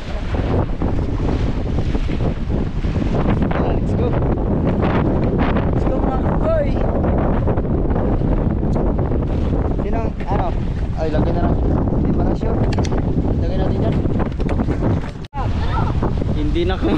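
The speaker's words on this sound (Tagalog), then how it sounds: "hindi namin alam na sobrang laki na pala ng alon dito sa Rabi" Big ocean waves at Rabi surge around a small boat in a loud, unbroken roar, with heavy wind buffeting the microphone and voices faintly mixed underneath.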